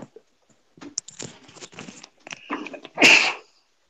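A single loud, close sneeze bursts out at the end, after a stretch of quiet talking and rustling during a livestream.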